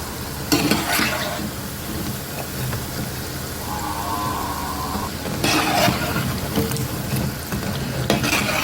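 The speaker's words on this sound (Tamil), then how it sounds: "நல்லா பொரிஞ்சு வரட்டும்" Kaara bonda, spicy fried snack balls, sizzle in hot oil in a tea-stall style home kitchen, a steady close frying crackle with a few louder bursts of bubbling and occasional stirring noises.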